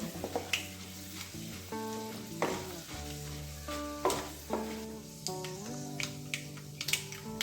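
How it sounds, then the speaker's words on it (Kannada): Dry chilli, urad dal and chana dal frying in a pan with a soft, steady sizzle and occasional stirring clicks, set under louder background music. "ಒಂದು ಒಣಮೆಣಸು ಹಾಕೊಳ್ಳೋಣ ಹಾಗೆ ಸ್ವಲ್ಪ ಉದ್ದಿನ ಬೇಳೆ ಮತ್ತು ಸ್ವಲ್ಪ ಕಡಲೆಬೇಳೆ ಹಾಕೊಳ್ಳೋಣ ಸ್ವಲ್ಪ ಫ್ರೈ ಮಾಡಿಕೊಂಡು"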